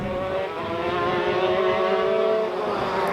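A race car engine on track droning loud and close, its pitch holding and shifting between gears as it revs, with no talk over it.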